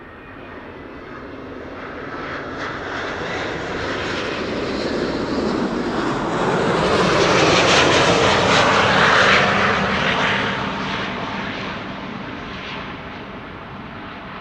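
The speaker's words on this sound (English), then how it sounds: "First up, the Corendon A350," A Corendon Airbus A350 lands at Amsterdam Schiphol Airport, its jet engines a broad steady roar that swells as it passes closest and then slowly fades, with no voices over it.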